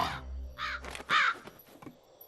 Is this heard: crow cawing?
yes